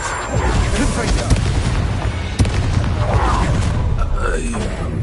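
Confringo fire spell explosions in Hogwarts Legacy, a steady wash of booming blasts and mechanical rumble with one sharp crack near the middle, loud and continuous throughout.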